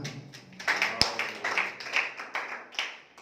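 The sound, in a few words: congregation clapping hands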